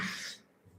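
A single short, breathy cough, fairly soft, followed by quiet.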